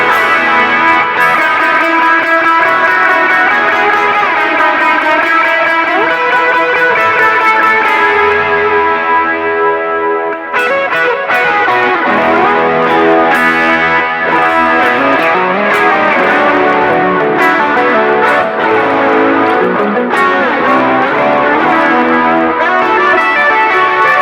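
Electric guitar lead tones run through a Neural DSP Quad Cortex, loud and continuous, with sustained melodic lines, ambient effects and long ringing notes filling the whole stretch.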